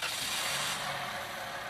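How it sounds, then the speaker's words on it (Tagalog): A Toyota Vios engine runs with a steady, loud mechanical drone, heard close up with no talking. "pwede ko na pa-start itong makina"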